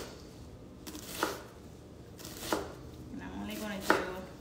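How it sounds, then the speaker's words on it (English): Knife dicing tomato on a cutting board for shrimp ceviche, three crisp chops spaced about a second apart, close and clear, with a soft spoken voice in between. "Slice down, and that will give you your perfectly diced tomato."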